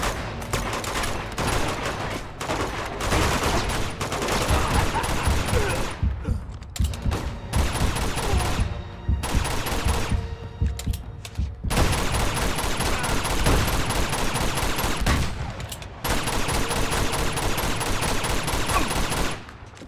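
Dense gunfire from a video game shootout in Uncharted 2: Among Thieves Remastered, loud sustained bursts and rapid shots with mechanical clatter, briefly dropping out a few times before resuming.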